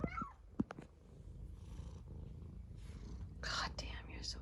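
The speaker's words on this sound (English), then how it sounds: "I've never heard a cat make such cute noises." A cat purring with a low continuous rumble close up, broken by a few short chirpy cat noises and soft breathy sounds, with quiet whispering nearby.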